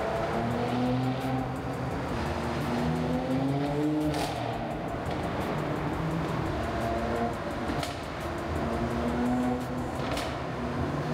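A Mercedes C43 AMG pulls away and drives on, its engine note rising and shifting through gears under steady road and wind noise, loud and close throughout.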